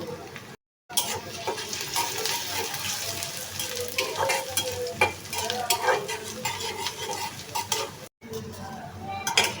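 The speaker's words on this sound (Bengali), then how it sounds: "সঙ্গে দিয়ে দিচ্ছি 2টি শুকনো মরিচ। তো এখন আমি পেঁয়াজটাকে ভেজে নেব।" Chopped onions and two dried chillies fry in a pan with a close, constant sizzle, overlaid by busy scraping and clinking of a spoon stirring throughout.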